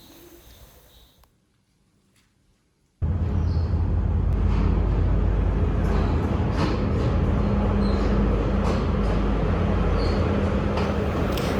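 A train rolls past near a hillside trail on the way to Meeyan Ella waterfall in upper Kotte, Sri Lanka, its loud, steady rumble starting abruptly and continuing without a break, with birds faintly audible before it arrives.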